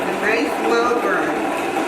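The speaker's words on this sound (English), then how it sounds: "That's why I have it on the variable speed on my Vitamix." A Vitamix blender running at low variable speed chops cauliflower into rice-sized grains, giving a steady close whirring motor drone throughout, with a voice talking over it.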